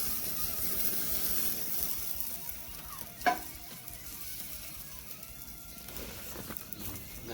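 A tomahawk steak sizzling on a grill, a continuous close hiss and crackle with a single sharp knock partway through, no talking.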